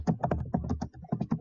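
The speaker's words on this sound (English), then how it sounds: "Who is typing up a storm?" Rapid, uneven clacking of keys on a computer keyboard, typed fast and close with a short pause partway through.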